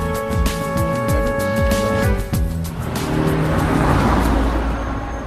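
A car engine roars loudly and steadily for several seconds with a squeal of tires, as if driving fast, filling the scene continuously.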